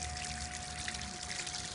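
Water from a garden hose pours steadily into a gold-prospecting sluice by a river in France, making a continuous, close splashing rush with an even level throughout.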